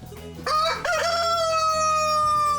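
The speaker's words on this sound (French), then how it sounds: "Le coq lucien est l'ultime moyen de détection qui prévient au moindre bruit suspect." A farmyard rooster kept as a watch bird lets out one loud, close cock-a-doodle-doo. The crow is strong and tonal, rising and then holding a long drawn-out note.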